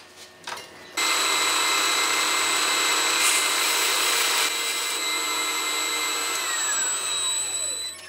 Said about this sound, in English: I'm just going to put a finer belt on and just clean the blade up a bit